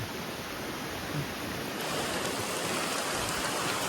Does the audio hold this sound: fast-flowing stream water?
yes